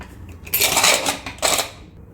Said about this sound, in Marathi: आता कुकर गार झालंय बघते उघडून भात.